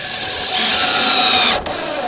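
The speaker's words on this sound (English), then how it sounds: "this is where I believe a drill driver like this" A drill driver sets screws with rubber gaskets into metal roof panels on a salvaged mobile home, a steady whirring motor with a rising tone that runs for over a second, then cuts off abruptly.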